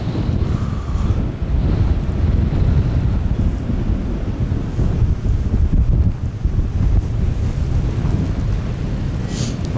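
Strong westerly winter wind roars continuously, gusting and buffeting the microphone, with power lines humming faintly in the blast.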